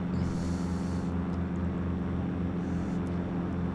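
Beechcraft Bonanza piston engine climbing out after a crosswind take-off in the X-Plane flight simulator, a steady loud droning hum with a constant propeller tone and no pauses.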